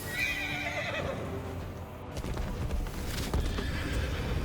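A horse in the open-world game Where Winds Meet whinnies loudly over a dense wash of battle and ambient game sound, with hoof clatter underneath and no speech.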